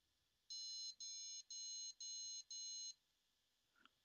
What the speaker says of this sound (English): That was 5 beeps.